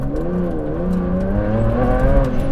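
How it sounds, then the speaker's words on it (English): Ferrari Enzo V12 engine revving under load while driving, a smooth rising and falling multi-tone roar close up, continuous and loud, with no talk. "Oh, this engine."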